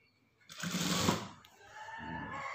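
Sewing machine stitching a collar on a garment: a close, loud mechanical whir runs for about a second, fades, then resumes more softly and steadily.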